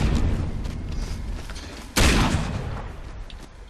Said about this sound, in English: Are you firing at me?!